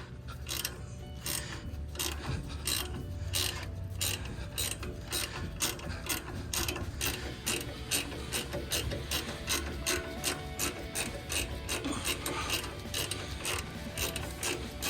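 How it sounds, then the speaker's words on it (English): Ratchet wrench clicking steadily and rapidly while turning a cross-threaded bolt on a boat trailer tie-down, a continuous stream of sharp, close metallic pawl clicks with no voices. "The bottom bolt is cross-threaded. You can hear it, it's fighting me."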